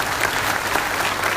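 Steady, dense audience applause from a seated crowd at a business and preaching talk, many hands clapping evenly at a constant level throughout.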